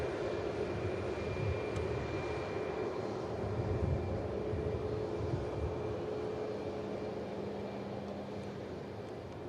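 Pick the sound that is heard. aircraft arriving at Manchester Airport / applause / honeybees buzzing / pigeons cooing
aircraft arriving at Manchester Airport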